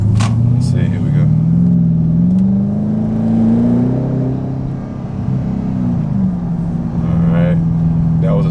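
A Porsche Cayenne Turbo with its muffler deleted pulling hard through second gear, a loud, raspy engine note rising steadily in pitch, then easing off, heard close and from inside the car.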